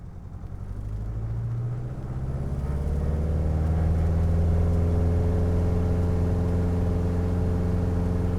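Cessna Cardinal single-engine plane on its takeoff roll from runway 32, the engine droning loudly and steadily as it builds to full power, with no talk over it.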